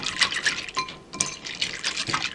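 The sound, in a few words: stirring ganache in a bowl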